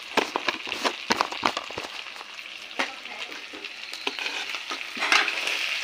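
Meat being stirred with red chili powder and spices in a pan, a run of close scraping, crackling sizzle bursts over steady frying, with no talk.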